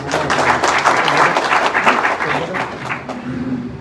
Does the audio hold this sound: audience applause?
yes